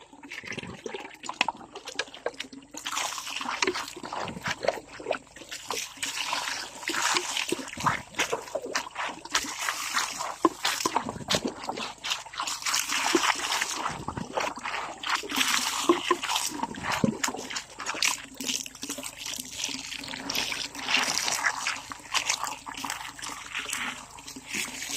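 Water from a natural spring on a farm trickles and splashes steadily and close, a continuous bubbling flow with small irregular splatters throughout.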